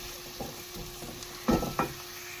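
Onions frying in oil in a pan while being cooked to a light pink for a mutton creamy handi, with a low steady sizzle and a few louder stirring scrapes near the end.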